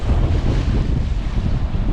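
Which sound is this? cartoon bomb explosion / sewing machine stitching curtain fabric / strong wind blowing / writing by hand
strong wind blowing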